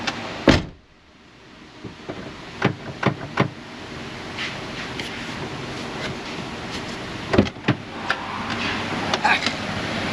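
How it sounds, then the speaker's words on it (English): A Suzuki car in an auto repair shop has its door latch and power window tested: a sharp door slam, then a series of distinct clicks and clunks from the latch and handle, another firm thud, and more light mechanical clicks over a low shop hum. "let's see if this thing latches and the window still works"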